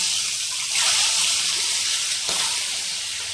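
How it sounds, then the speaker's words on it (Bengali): Eggs slipped one at a time into hot mustard oil in a wok give off a steady, fairly loud sizzle and crackle, swelling briefly near the middle as another egg goes in. "যেহেতু তেল গরম হয়ে গেছে, আমি ডিমগুলোকে এক এক করে ছেড়ে দিচ্ছি।"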